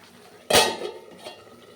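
A lid is set over a cooking pot of vegetables simmering in a little water, making one sharp metallic clank followed by a brief ringing rattle, then quiet kitchen background.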